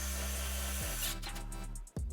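Team Corally Torq Master cordless driver backing a screw out with its torque setting engaged, a steady close motor whir that strains under load, then briefly cuts out and restarts near the end.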